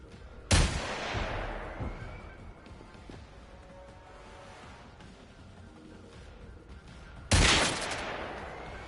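Two loud, sharp gunshots in Generation Zero fired at a Seeker robot, each a sudden blast with a long decaying echo, spaced several seconds apart over quieter ambient game sound.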